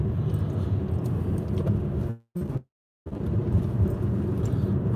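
Vehicle tires spinning on wet ground, a loud rough rumbling roar that cuts out abruptly partway through, then resumes just as strongly.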